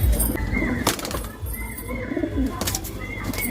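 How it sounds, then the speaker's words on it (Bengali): Pigeons, a pair of males, cooing and scuffling close by at a home, with low coos, bursts of fluttering and busy background noise throughout. "এই পায়রা দুটো প্রচুর মারপিট করছে"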